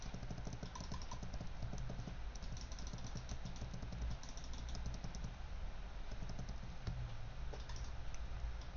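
Rapid typing on a computer keyboard, with keys tapped while trying to get Enter to register, a faint continuous clatter of keystrokes over a steady low hum, no talk.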